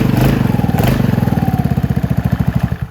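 Venom X22GT 250cc motorcycle engine running close by with a fast, even putter of rapid exhaust pulses that holds steady throughout, with no talking.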